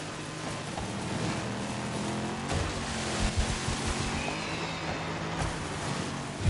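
Rival cars in the DiRT 5 racing game sweep past at close range, a steady engine roar with rising and falling pitch, sharper revving bursts and tyre noise as they close in and draw alongside.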